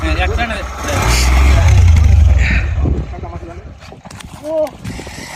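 A motorcycle rolls off a ferry at a river crossing ghat, its low engine rumble loud and close for a few seconds before fading, with clunks and knocks from the ramp and people talking nearby.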